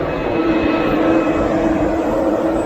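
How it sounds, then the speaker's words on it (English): A London double-decker bus rumbles past close by, its heavy engine drone steady and loud for the whole stretch, with no voices. "Check that out. Double-decker bus."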